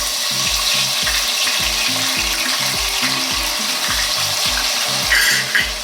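Ginger garlic paste sizzles and fries in hot oil in a pot for restaurant-style pav bhaji, a loud steady crackle with rhythmic low stirring knocks underneath and no voices.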